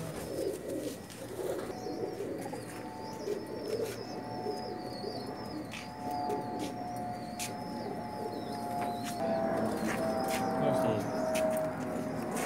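Pigeons cooing in a loft, soft repeated throaty coos close by over a busy background with faint chirps and a steady hum, and someone speaking at times.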